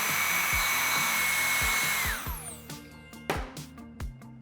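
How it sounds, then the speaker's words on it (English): Handheld blow dryer blowing on hair in a salon, a loud steady whoosh with a high whine for about two seconds before it cuts off, leaving clicks and light handling noises. "Place the blow dryer on the hair before you turn it on."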